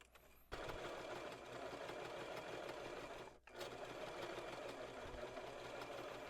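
A sewing machine runs a long basting stitch around a dress pocket piece with a half-inch seam allowance. It is a close, steady rapid chatter of the needle that falters briefly once and then carries on evenly.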